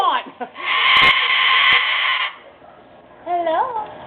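A pet parrot squawks in a long, harsh, goat-like bleat, then lets out shorter rising and falling calls, loud and close, with a person talking around it.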